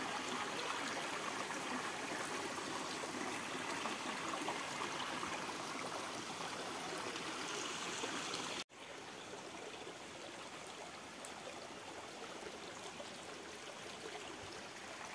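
The Tai Tam Mound waterfall stream pours in a steady, continuous rush of water heard close up. The flow stays broad and unbroken with no voices, apart from a sudden cut partway through after which it runs slightly softer.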